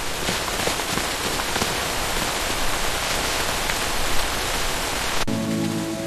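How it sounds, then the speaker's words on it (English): Heavy rain pours down steadily, a dense, loud hiss of drops on surfaces that fills the scene without a break before cutting off abruptly near the end. "The rain is getting stronger!"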